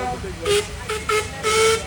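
A steam locomotive whistle gives several short toots of varying length, moderately loud, with breathy hiss around each blast.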